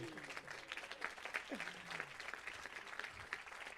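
An audience at a startup event claps steadily in a dense burst of applause, with a few voices mixed in.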